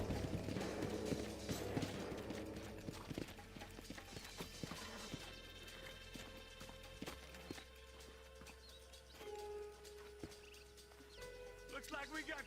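Horse hooves clip-clopping in the Western video game Red Dead Redemption, irregular steps with faint snorts and ambient music, fairly quiet.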